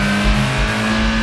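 A car engine in the racing game Gran Turismo, heard as if from inside the engine compartment while driving: a loud, continuous droning hum with a steady pitch and a rhythmic low throb.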